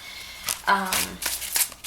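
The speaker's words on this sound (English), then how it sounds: "once you shuffle the cards together, they shuffle very well" Tarot cards being shuffled by hand in a few quick riffling bursts, with a voice speaking over them.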